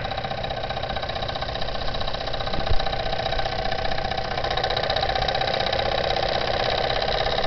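A Jensen 75 toy steam engine runs with a superheater and new burner, giving a steady fast chuffing whir with a constant burner hiss, close and continuous, with one small knock partway through.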